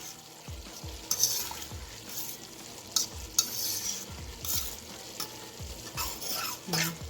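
Harissa and pepper being stirred into a hot pot of Moroccan-style cooking: steady sizzling with repeated scraping strokes of a spoon against the pot, close and fairly loud, no talking.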